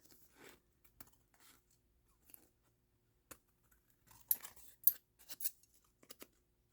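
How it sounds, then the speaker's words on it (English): Scissors snip a thumb notch into a paper pocket made from book pages and napkins, a few short, quiet crisp cuts clustered together with small rustles between, close by and with no talking. "Now you can cut a thumb notch in it if you want."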